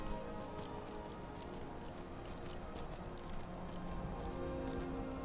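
A demon horse in the Skyrim video game trots along a mountain path, with a faint, steady clip-clop of hooves under quiet ambient game noise.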